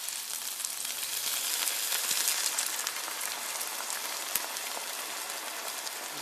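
Stock is poured into a pot of French onion soup, producing a steady hissing, sizzling rush like rain, even and continuous at moderate volume without talk.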